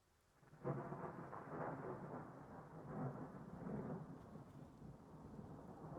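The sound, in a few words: thunder in a fishing video game (Russian Fishing 4)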